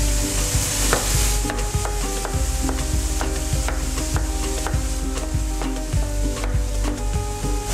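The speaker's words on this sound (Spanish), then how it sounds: "En lo que Fernanda está terminando de freír los pescados" Fish fillets frying in oil in a pan, a steady close sizzle with scattered crackles and light clinks of cookware.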